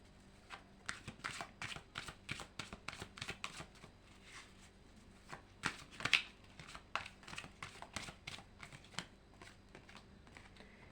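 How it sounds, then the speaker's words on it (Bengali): Tarot cards are shuffled in quick bursts of crisp riffling and flapping, a dense rapid patter of papery slaps that pauses briefly and resumes, close but quiet, with no talking. "জাস্ট আগে শাফলটা কমপ্লিট করে নিই"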